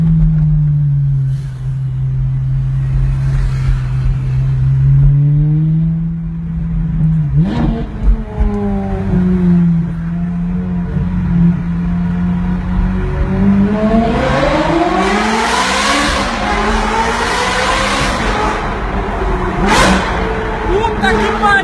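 Ferrari F430 fitted with an S-Line exhaust roars through a tunnel, starting from a low steady drone and climbing into repeated rising, echoing revs that grow louder toward the end, with voices in the cabin beneath it.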